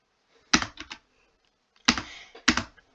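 A new computer keyboard clatters with quick bursts of close typing, three separate flurries of key presses with short pauses between them.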